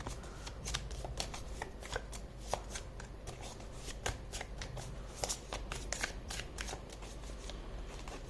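Tarot cards being shuffled by hand, a continuous dry riffling and slapping of card stock. The patter stays steady and close throughout with small sharper snaps, and no voices.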